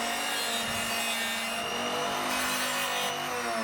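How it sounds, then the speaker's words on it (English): A friction sharpening machine grinds wooden toothpicks to points, producing a continuous, loud rasping whir with steady rubbing texture and no pauses. "It's a simple machine that uses friction for the sharpening of the toothpick."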